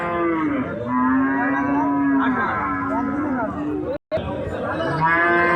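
Several Friesian cattle at a cattle market moo loudly and repeatedly, long drawn-out calls overlapping one another against a busy background with a brief drop-out near the end.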